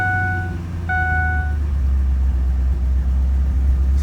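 A Ford F-250 truck engine idles after a restart, a steady low rumble with a faint tonal whine fading out early, continuous and close with no talk.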